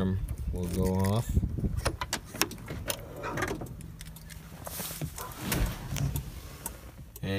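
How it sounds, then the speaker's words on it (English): Rapid, steady clicking from the alarm or relay of a 1997 Jeep Grand Cherokee close by, with muffled talk and mechanical clatter over it. "you can hear it clicking"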